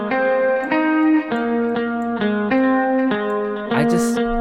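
A synth-like sample plays a series of sustained tonal notes soaked in a lush reverb plugin, each note ringing into the next with a smooth tail and ending on a brief noisy burst.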